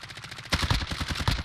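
Rapid automatic gunfire in the video game Warzone, a dense burst of sharp repeated shots that grows louder halfway through and continues without pause.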